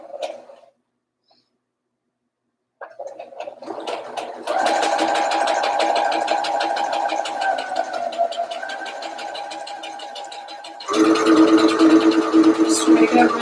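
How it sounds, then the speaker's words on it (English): A sewing machine runs steadily in straight stitch along a skirt pocket, a fast whirring rattle that starts after a short pause and speeds up louder near the end. "let's start sewing this pocket. And I'm just using a straight stitch."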